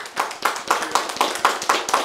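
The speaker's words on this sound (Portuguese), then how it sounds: "vamos pedir uma salva de palmas para o assador" Applause for a barbecue griller on a talk show, a few hands clapping in a steady, evenly spaced rhythm of about four claps per second, close and clear, with no talking.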